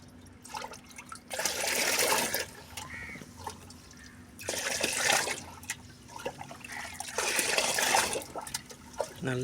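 Water being mixed into a thick natural fertilizer made for plants, heard as three loud bursts of sloshing, splashing liquid separated by quieter pauses with faint dripping between them.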